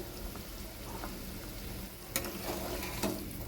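Fish curry broth in a pot on a gas flame, bubbling and simmering with a steady low sizzle and occasional faint pops and clicks.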